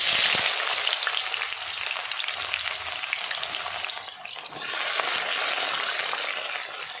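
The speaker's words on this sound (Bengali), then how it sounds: "কেটে রাখা পেঁয়াজ কুচিগুলো আমি এখন ফোড়নে দিয়ে দেব।" Chopped onions and dried red chillies hit hot oil for tempering in a home kitchen, giving a loud, steady sizzle and hiss with a brief dip midway before the frying roar picks up again.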